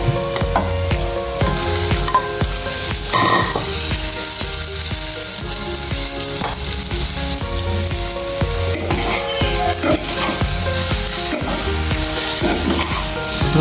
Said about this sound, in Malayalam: നമുക്ക് വേവിച്ച് വെച്ച നൂഡിൽസ് ഇട്ട് കൊടുക്കാവേ.